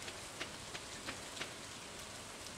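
Steady rain hiss fills the whole stretch in the farming game Stardew Valley, broadband and even, with a few faint soft ticks of drops landing on the surface.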